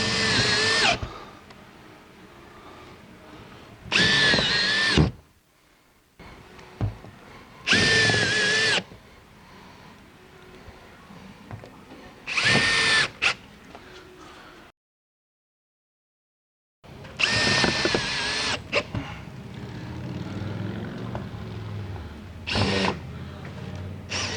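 A power drill drives screws into a window jamb in several short bursts with whirring motor spin-ups, separated by pauses and quiet handling noise.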